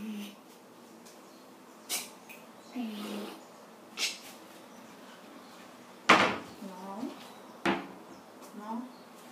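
Lower drawers are pulled open and pushed shut in a home, giving a series of scattered wooden knocks and sliding thumps spread across several seconds, with faint rustling in between.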